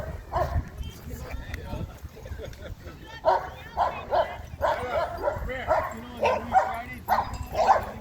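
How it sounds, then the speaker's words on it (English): Several dogs bark and yip in repeated bursts at an outdoor dog park, a Cane Corso among them, with someone talking over the barking throughout. "Bunch of wild dogs."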